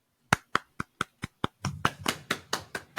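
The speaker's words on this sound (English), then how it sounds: "golf clap." A slow golf clap: about a dozen single, evenly spaced hand claps, close and crisp, a few slightly louder and roomier toward the end, with no talking.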